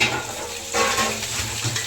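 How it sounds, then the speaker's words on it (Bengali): Fish frying in hot oil in a pan, a close, dense, continuous sizzle with crackling spatter and a brief scrape of stirring, no talking. "একটা আওয়াজ পাবে, মাছ ভাজা চলছে।"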